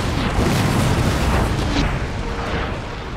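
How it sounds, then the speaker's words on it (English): Ship cannons firing in naval battle in Empire Total War, a dense rumbling volley of overlapping booms blending into a continuous roar. "Look at all those guns firing."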